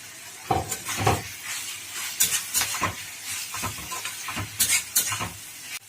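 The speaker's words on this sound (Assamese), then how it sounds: "এতিয়া প্ৰায় বন্ধাকবিখিনি সিজিবলৈ ধৰিছে।" Tomatoes and chopped cabbage cooking in a pan for a Maggi masala, with close sizzling and repeated scraping stirs of a spoon against the pan.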